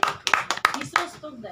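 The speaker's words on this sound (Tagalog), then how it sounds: "Palakpak." A small group at an officers' orientation gives a brief, scattered round of claps for a chairman, a few sharp separate hand claps fading within about a second.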